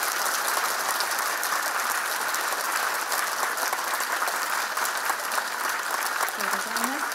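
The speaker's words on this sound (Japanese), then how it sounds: "どうぞ今一度大きな拍手をお願いいたします。" Dense audience applause at the opening-day stage greeting of a Japanese film premiere, a loud, continuous wash of clapping from a large crowd that lasts throughout.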